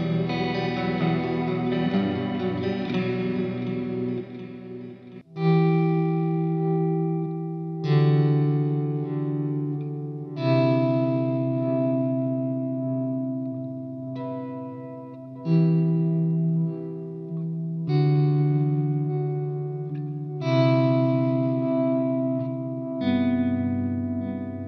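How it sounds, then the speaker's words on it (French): Mooer smart guitar played through a series of different effects, with chorus, echo and distortion, each phrase starting with a fresh strummed attack and ringing sustain, loud and close throughout with no talk. "Donc voilà, plein de sons différents avec plein d'effets différents."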